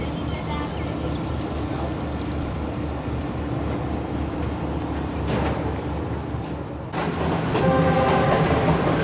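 The 28DN Shalimar Express pulls away from Bahawalpur station on the Multan to Karachi run, its rumbling wagons and rhythmic wheel clatter loud and close, with horn-like tones and a swell in intensity near the end.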